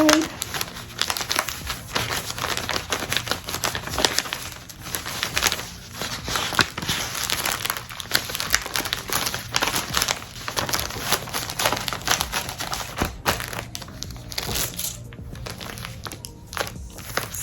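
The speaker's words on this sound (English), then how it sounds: "And I put the receipt and the thank you card" A receipt and thank-you card being tucked into a shipping package for a printed onesie, a continuous close crinkling and rustling of paper and plastic mailer with brief handling bumps.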